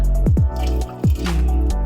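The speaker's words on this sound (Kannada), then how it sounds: "ಇವಾಗ ನೀರು ಹಾಕಿ ಎಷ್ಟು 1 ಲೋಟ ನೀರು ಹಾಕಿದೆ." Water poured into a pot of cooking vegetables and dal for bisibele bath makes a few loud, close glugging plops and splashes in quick succession.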